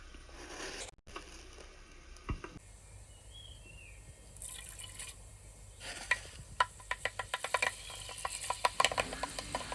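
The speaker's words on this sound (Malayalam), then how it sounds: "ഉലുവ വറുക്കാനായിട്ട് നമുക്ക് എണ്ണ ഒഴിക്കാം." Oil goes into a hot clay pot to fry fenugreek seeds, with a few quiet clinks at first, then a rising run of sharp crackles and pops as the seeds sputter, close and moderately loud.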